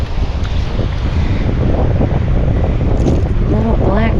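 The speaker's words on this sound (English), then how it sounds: "that wind's really kicked up" Strong gusty wind at a stormy Pass-A-Grille beach in St Pete, Florida, buffets the microphone in a loud, continuous roar with surf beneath, and a person talks briefly near the end.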